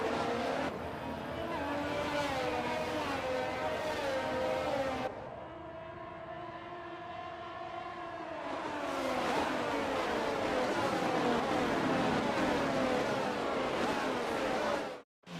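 Race cars from the F1 22 video game drone through a formation lap, a continuous engine hum with shifting pitch that dips briefly midway before rising again, heard beneath a commentator's voice.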